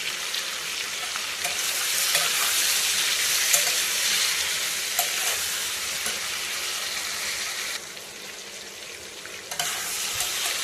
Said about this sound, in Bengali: ঝিঙেটা কষানো হয়ে গেছে